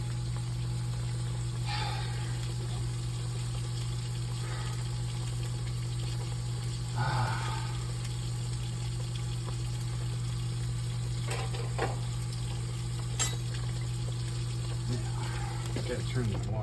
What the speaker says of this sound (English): gotta turn the water off.